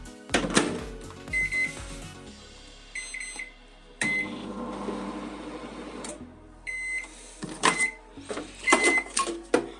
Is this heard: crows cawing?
no